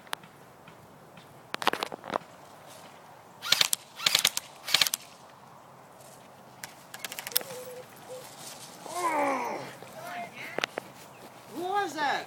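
Airsoft guns fire during play in an indoor maze, with sharp clattering bursts of rapid shots, some near and loud, others more distant, alongside footsteps and players shouting.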